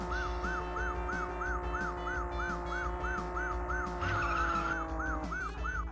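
Police car siren in the arcade driving game Taito's Chase H.Q., a steady rising-and-falling electronic wail repeating in fast even cycles over a constant engine drone, with a brief shift in tone near the end.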